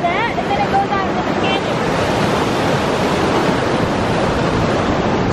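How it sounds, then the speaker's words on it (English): Loud, steady rushing of river water where two rivers meet and pour into a canyon, a dense roar that fills the scene, with a brief voice at the start. "you guys probably can't hear me over the water"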